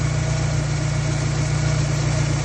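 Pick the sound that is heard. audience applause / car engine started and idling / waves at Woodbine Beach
car engine started and idling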